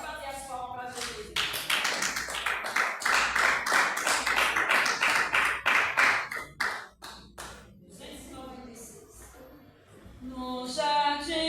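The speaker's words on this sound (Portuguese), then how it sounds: "Pode bater as palmas para Jesus" A church congregation claps hands in unison during a worship service, a steady run of sharp, rhythmic claps for about six seconds that then thins out, with singing or talk heard at the start and end.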